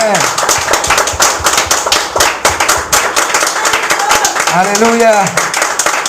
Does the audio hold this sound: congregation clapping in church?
yes